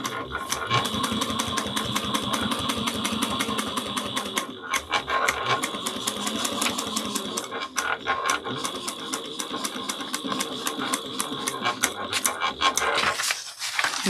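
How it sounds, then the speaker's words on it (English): A sewing machine top stitching along the flap of a fabric clutch wallet runs in a rapid, steady mechanical chatter up close, with short pauses and restarts and a few clunks near the end. "we're going to top stitch at 1/8 of an inch onto the little flap"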